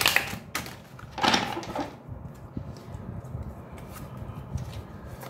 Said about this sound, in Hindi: थोड़ा सा हम शफल कर लेते हैं क्रिस क्रॉस.